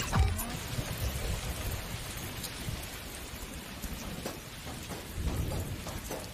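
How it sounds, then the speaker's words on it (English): Steady rain pours down, filling the scene with a dense, continuous hiss of drops on surfaces, a bit louder at the start and again near the end, with no voices. "the rain is disrupting the signal"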